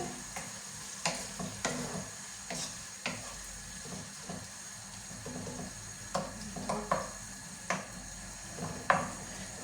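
Seasoned chicken breast is stirred in a frying pan, with soft scraping stirs and light clinks recurring over a low, steady sizzle, close and fairly quiet.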